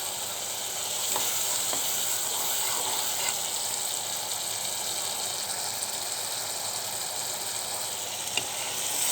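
Spice masala sautéing in a pan, giving a steady broad sizzle with faint stirring scrapes, constant and close, with no voices.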